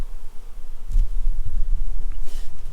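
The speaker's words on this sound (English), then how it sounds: "look at the amount of bees" Honey bees swarm around freshly harvested hive supers at a honey harvest, their buzzing a steady close drone with low rumbling knocks and bumps through it.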